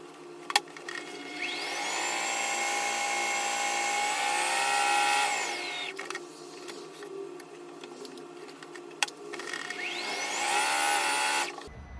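A sewing machine stay stitching the edges of pajama pant pieces runs in two steady, close whirring bursts, each ramping up and winding down, with a short quiet gap between them.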